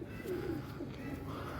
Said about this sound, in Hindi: ये देखें जी, ये कबूतर है